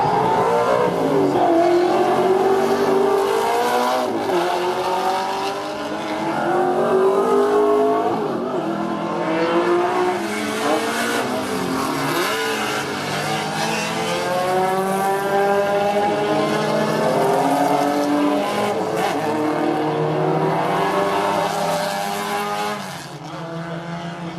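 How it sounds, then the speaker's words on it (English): A V8 Supercar engine howls continuously at high revs on a race track, rising and falling through gear changes as it passes, loud and close throughout with no talking. "Car sounds alright to me anyway, so that's good news"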